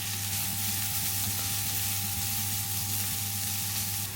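Spring onion whites sizzle steadily in a hot pan while vegetable fried rice is being cooked, a continuous loud frying hiss with a low hum beneath and no talk.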